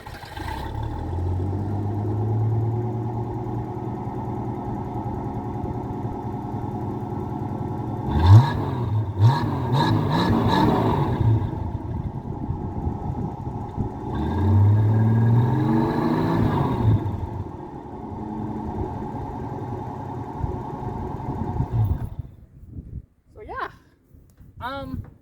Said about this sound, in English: now this one has aluminum chambered dual exhaust on it